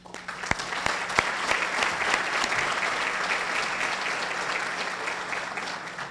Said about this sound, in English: recognize their success with a round of applause